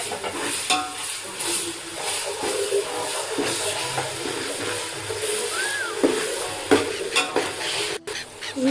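Ginger and garlic sizzle in hot oil in a pot for vegetable biryani, with a steady frying hiss and occasional stirring scrapes and metallic clinks of a spoon against the pot.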